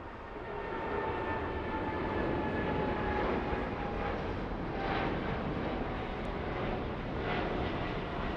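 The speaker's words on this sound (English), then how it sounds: "Finally, American 9783 taking off." American Airlines flight 9783 takes off from LAX bound for Tulsa, a steady, loud roar of jet engines building and holding for several seconds, with faint whining tones above the rumble and no talking.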